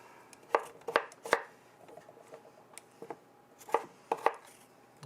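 Potatoes are chopped on a board for a Thanksgiving turkey dinner, sharp close knife knocks in small clusters of two or three with pauses, and no talking.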